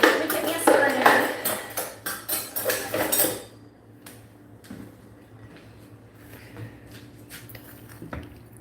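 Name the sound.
spoon clattering in a dish of mac and cheese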